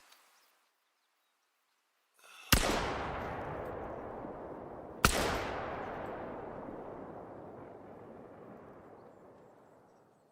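Two loud rifle gunshots in the hunting video game theHunter: Call of the Wild, a few seconds apart, each with a sharp crack and a long rolling echo that fades across open terrain after near silence.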